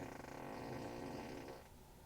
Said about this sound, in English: So, fart